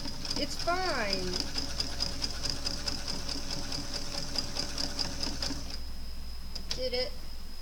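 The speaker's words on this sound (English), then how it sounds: "And we're back stitching." Sewing machine running steadily while back stitching elastic onto a lacy top, a fast mechanical whirring with rapid needle ticks, close, then stopping near the end; someone talks over it.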